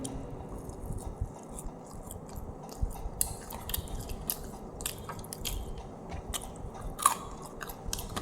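Someone bites into and chews a spicy KFC Zinger burger, giving soft, moist crunching and mastication sounds close to the mic, steady throughout with a few sharper crunches and light clinks of packaging or cutlery.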